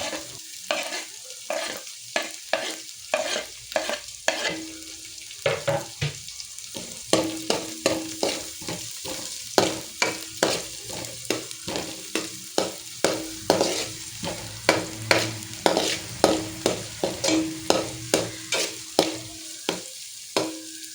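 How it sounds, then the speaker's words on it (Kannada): Finely chopped carrot, beans, capsicum, cabbage and green chilli fry for veg fried rice under a constant sizzle, stirred by a spatula in a steady run of rhythmic scraping strokes, close and fairly loud, without speech. "ಇದಕ್ಕೆ ಸಣ್ಣದಾಗಿ ಹೆಚ್ಚಿಟ್ಟುಕೊಂಡಿರುವಂತಹ ಕ್ಯಾರೆಟ್, ಬೀನ್ಸ್, ಕ್ಯಾಪ್ಸಿಕಮ್, ಕ್ಯಾಬೇಜ್ ಮತ್ತು ಹಸಿಮೆಣಸಿನಕಾಯನ್ನು ಹಾಕ್ಕೊಂಡು ಚೆನ್ನಾಗಿ ಫ್ರೈ ಮಾಡಿಕೊಳ್ಬೇಕು."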